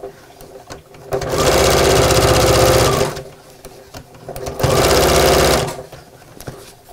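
A sewing machine with a universal needle stitches a fabric tote bag with a dividing pocket, running in two sustained bursts of steady whirring separated by a short pause, close and loud.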